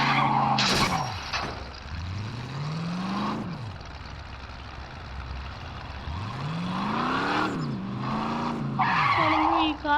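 Video game Gangster Vegas: a car engine revs up and down in rising and falling sweeps, with loud tire skids screeching near the start and end, the sound steady and close throughout.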